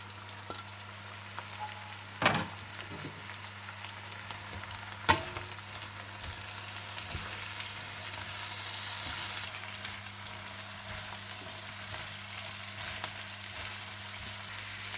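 Cabbage, bell peppers, carrots and green onions stir-frying for chicken chow mein, a steady soft sizzle with a couple of sharp utensil clanks early on and a low constant hum underneath, no talk.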